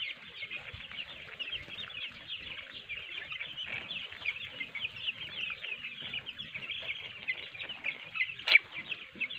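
Broiler chickens clucking inside a poultry coop housing about 6,500 birds, a dense continuous chatter of many birds at moderate distance with a brief sharp burst near the end.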